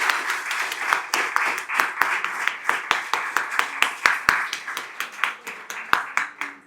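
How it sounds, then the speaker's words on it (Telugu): Audience applause at a youth volunteer training session, a crowd clapping in a lively, uneven patter with individual claps standing out, lasting several seconds and tapering toward the end. "Give him a big applause."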